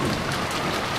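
Steady, dense rain in the Umineko video game, a continuous full hiss of downpour on surfaces with no gaps, loud and close throughout.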